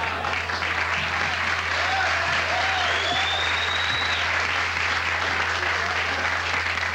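Late-night talk show studio audience applauds steadily and loudly, a dense continuous wash of clapping with a low hum underneath and faint voices mixed in.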